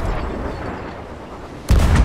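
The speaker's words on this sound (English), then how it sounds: "We're about to make a cannon pass." Faint, distant rumbling gives way to a single loud, close ship's cannon blast near the end, in Sea of Thieves.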